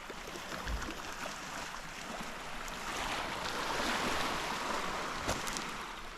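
Sea waves at high tide wash near a seawall on a Philippine shore. The faint, steady surf rises and falls as soft broadband rushing, with gentle swells and no talk.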